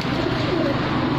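Pigeons coo continuously in a low, warbling murmur, several birds close by and fairly loud, with a busy background hum, in Jhelum, Pakistan.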